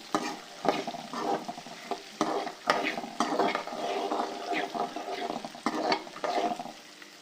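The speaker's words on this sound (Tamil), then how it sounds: "இப்போ இதில் வந்து இந்த பச்சை பட்டாணியை வந்து ஆட் பண்ணிட்டோம் இது வந்து பச்சை வாடை போகிற வரைக்கும் லேஸாக வதக்கிக்கலாம்" Green peas and urad dal are sautéed in a pan for pea chutney, with a steady sizzle broken by repeated spoon scrapes and stirring knocks, close and fairly loud with no talking.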